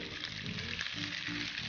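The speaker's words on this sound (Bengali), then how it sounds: "একটু ভেজে এবার বেল পেপারগুলো দিয়ে দিচ্ছি।" Colourful bell peppers fry in a pan over high heat, giving a steady, close sizzle that runs evenly throughout, with no talking.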